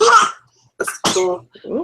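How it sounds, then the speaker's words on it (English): A baby sneezes in a room with adults chatting nearby, a short sharp burst at the very start followed by people talking over the rest. "sorry, baby sneezes."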